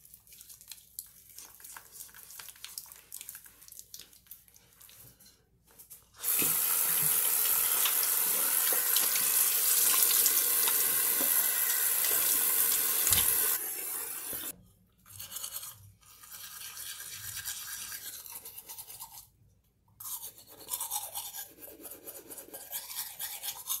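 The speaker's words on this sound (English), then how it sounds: "so I just finished brushing my teeth and washing my face" A bathroom tap runs into a sink in a steady, loud gush for several seconds, surrounded by quieter splashing and the intermittent scrubbing of a toothbrush brushing teeth, close by and without speech.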